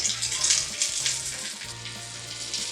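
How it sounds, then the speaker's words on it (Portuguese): A hamburger patty frying in a pan, a close, steady hiss of sizzling fat with faint crackles and a low background hum, no voices. "Esse aqui tá meio branco, peraí, vamos fritar mais um pouquinho."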